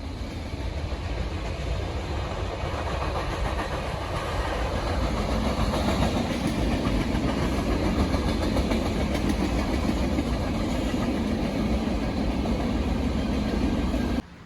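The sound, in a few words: train passing on railway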